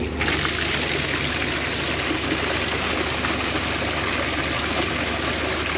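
Water runs steadily and loudly into a container for cows on a farm, a continuous rushing stream with no break from start to finish.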